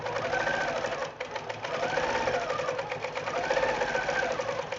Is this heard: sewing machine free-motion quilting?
yes